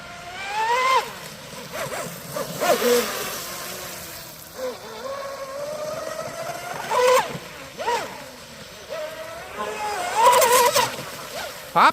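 A Dominator boat fitted with ABC 1814 props running at full speed on water, engine whine rising and falling in repeated surges with splashing and hull slaps, fairly close, with voices talking intermittently over it.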